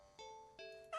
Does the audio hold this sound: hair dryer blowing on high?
no